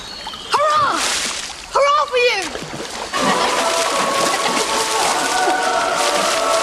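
Water splashing as people play at the edge of a river, a burst of churning splashes that becomes a steady, continuous sloshing, with short high voices or cries early on and no clear talk.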